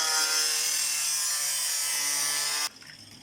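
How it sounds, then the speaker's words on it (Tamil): A wooden board being cut with a tool, a loud continuous harsh sawing or grinding noise that stops abruptly near the end, leaving quiet room tone. "கட் பண்ணுறேன்."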